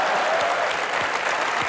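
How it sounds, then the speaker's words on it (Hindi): The studio audience of the comedy show Comedy Nights With Kapil claps in a thick, continuous burst of applause, loud and even throughout the short moment. "ठोको ताली"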